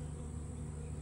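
Bees buzzing in a low, steady drone during a bee sting therapy session, close and continuous with no voices.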